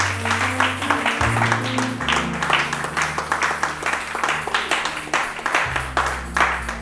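A church congregation claps in steady, rhythmic unison while praising the Lord, loud and close, with music sustaining underneath.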